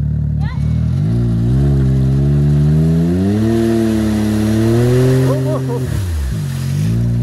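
A Can-Am Maverick X3 side-by-side engine revs on the throttle, a loud close mechanical drone rising in pitch and holding before dropping off near the end, with a brief voice at the start.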